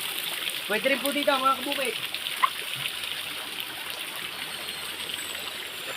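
Water pours steadily into a small outdoor bathing pool in the countryside, a constant rushing trickle and splash heard nearby while someone speaks over it.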